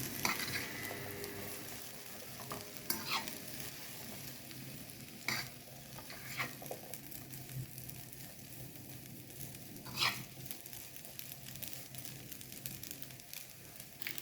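Pasta with celery stalks and leaves stirred in a pan, a soft continuous sizzle under scattered scraping and clinking of the spoon against the pan, with a few sharper knocks, no talking.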